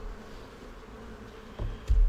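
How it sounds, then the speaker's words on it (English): Honey bees buzz faintly near the hive entrance as they fly back in, a low steady drone with a couple of louder close passes at the end. "Quick tap, bees gone. They'll fly in."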